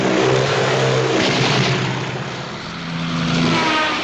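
Helicopter in an aerial attack scene from From Russia with Love, a loud, steady engine roar with rotor drone that swells and eases slightly across the span, no voices.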